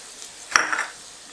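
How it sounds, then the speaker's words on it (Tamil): Chopped ginger dropped into hot oil in a kadai gives a short sizzle with a small metallic clink at its start, fading within a second in a quiet kitchen. "இப்போ எண்ணெய் காஞ்சோன்னே சாப் பண்ண ஜிஞ்சர் போடுறேன்"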